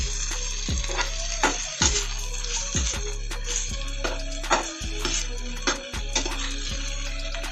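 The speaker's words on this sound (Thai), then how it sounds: "ระหว่างนี้ก็จะ คั่วไปเรื่อย ๆ ครับ" Chicken with ginger and garlic stir-fries in a pan over low heat, a steady close sizzle broken by repeated scrapes and clatters of a spatula as the pieces are stirred.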